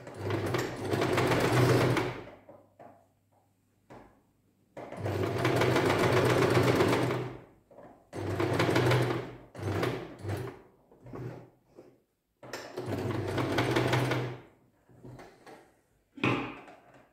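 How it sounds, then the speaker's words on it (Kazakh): An electric sewing machine stitching along a folded garment seam, running in three long bursts with short pauses and small handling clicks between them, close and fairly loud with no talking. "Міне бүктеп, осы жерді тігіп шығамыз мына жерге шейін."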